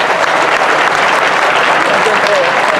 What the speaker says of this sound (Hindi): उनके नाम से एक जोरदार ताली बजा दीजिए।